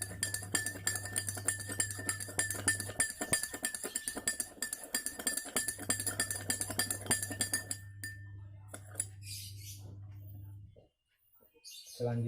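A spoon stirring sugar into a glass of water, ringing in rapid, continuous clinks against the glass for several seconds, close up, before fading to near silence with a brief clink at the end.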